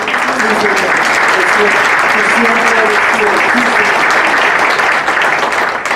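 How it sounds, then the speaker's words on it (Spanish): A church congregation applauding loudly and continuously, a close, dense wash of clapping from many hands, with voices calling out over it. "Si van a aplaudir al Señor, aplaudámosle."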